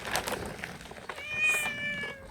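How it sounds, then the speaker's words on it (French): Cat meowing close by on an old cobbled village street, a drawn-out tonal meow following soft rustling sounds, clear and fairly loud. "Oui, salut Minou"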